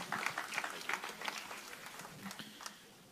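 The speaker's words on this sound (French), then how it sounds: "Applaudissez, s'il vous plaît." An audience applauds with a patter of many hands clapping, fairly soft and tapering off over a few seconds.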